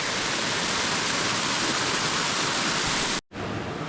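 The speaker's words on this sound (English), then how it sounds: "Here's a second look at that waterfall." Waterfall at Horton Creek, Arizona, roaring as a loud, steady broadband rush of falling water, close and continuous, with a brief dropout near the end.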